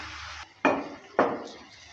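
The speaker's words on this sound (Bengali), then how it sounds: "আর একটা ঢাকনা দিয়ে ঢেকে দিচ্ছি 2 মিনিটের জন্য।" A lid goes onto a pan while cooking a fish and broccoli curry: two close metallic clanks in quick succession after a brief low background hum, each ringing and fading.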